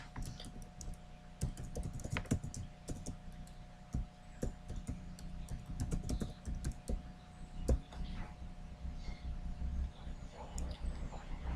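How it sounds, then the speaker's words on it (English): Keys clatter steadily on a computer keyboard as an email address is typed, a close run of quick irregular clicks over a low steady hum. "you need to key in your email address"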